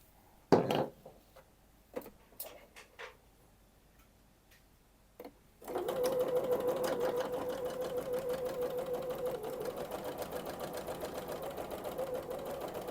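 A sewing machine stitches the pocket seam of a luxury bag, starting after a few scattered clicks and handling knocks, then running close and steady with a fast, even rhythmic chatter for about seven seconds.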